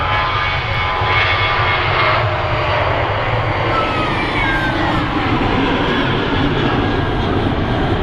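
A Ryanair airliner rolls along the runway at Manchester Airport with a loud, steady engine roar and rumble that holds constant throughout, fairly near, with no voices.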